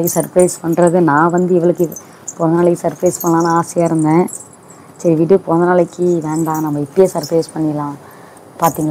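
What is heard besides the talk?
silver anklets jingling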